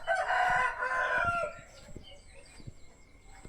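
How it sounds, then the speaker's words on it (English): A rooster crows its morning call loudly once from a neighboring house, its call trailing off, followed by quiet outdoor ambience with faint knocks. "That is the morning crow of the rooster from the house right in front of mine."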